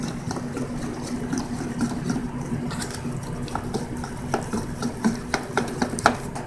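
Chicken is mixed by hand in a wet batter of starch, baking powder, salt, oil and water, giving soft squelching and stirring sounds with sharper wet slaps toward the end. No one speaks.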